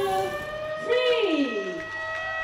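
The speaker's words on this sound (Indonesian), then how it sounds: "Penekanan tombol sirene" A siren sounded at the groundbreaking ceremony for the Benoa port project in Bali wails with a rising and falling pitch sweep, fairly loud and close, over a steady electronic hum.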